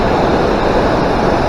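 A waterfall cascade in the Vallon du Couleau mountain valley in the Écrins massif, Hautes-Alpes, roars as a loud, steady wash of rushing water, close and unbroken, with no voices.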